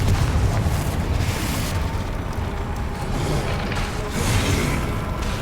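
A Confringo blasting spell in Hogwarts Legacy sets off loud explosive booms, a rumbling blast around the start and another near the four-second mark, over continuous battle noise.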